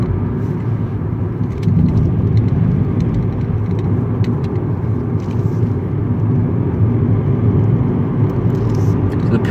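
Steady low road rumble of a car driving along a dark road with no streetlights, with engine and tyre noise continuous and loud throughout from inside the cabin, swelling slightly after the first couple of seconds.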